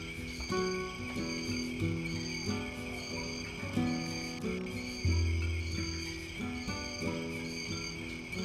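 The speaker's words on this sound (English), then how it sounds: "And some high quality cricket sounds." Cricket chirping ambience from the Dreamcast game Dragon Riders: Chronicles of Pern pulses in steady, overlapping trills over a layered tonal background, continuous and moderately loud with no talking.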